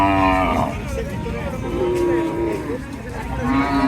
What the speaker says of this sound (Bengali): এখানে একটি কালো ষাঁড় গরু আসতেছে।